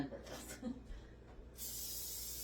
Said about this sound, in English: I'm going to just spray the top of them with my oil spray